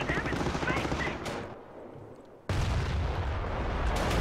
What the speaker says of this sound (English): There was a shot.